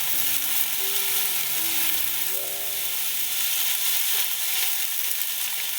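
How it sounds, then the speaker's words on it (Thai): Kimchi fried rice with garlic chives stir-fried in a hot pan, a loud, dense, continuous sizzle and hiss up close with faint tossing and scraping underneath, steady throughout. "ทำด้วยกุยช่าย ผัดคลุกให้ทั่ว"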